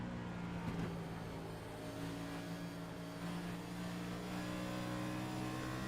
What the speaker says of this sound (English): Listen to him play with that throttle and do away with the lap machine without any hesitation.